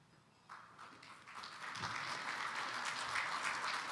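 An audience at a recognition luncheon breaks into applause, starting sparse and quiet, then building into a steady, fuller clapping that holds to the end.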